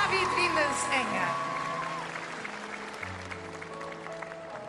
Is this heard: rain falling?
no